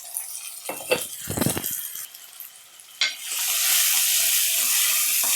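Tomatoes sautéing in a pan for a Tamil fish gravy: a few stirring scrapes and clinks up front, then a steady loud sizzle that fills the rest.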